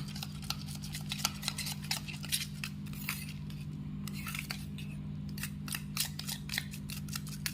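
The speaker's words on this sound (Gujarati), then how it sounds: "પછી આ રીતે તેને છે ને થોડુંક ફેટી લેવાનું એટલે અંદર કલોંજી ને મેથી એલોવેરા બધું સરસ મિક્સ થઈ જાય" A curd hair mask with kalonji, fenugreek and aloe vera is whisked in a bowl, giving a rapid, steady stream of light clinking strokes over a low background hum, close by with no voices.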